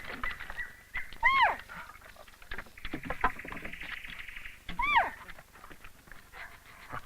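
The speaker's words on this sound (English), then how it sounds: "the dog's job is to scratch and bark to alert the handler to the area with the most intense" A search dog scratches and gives a few sharp barks and whines to alert its handler to a scent, with scuffling and rustling between two clear vocal bursts.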